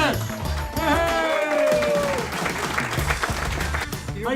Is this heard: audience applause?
yes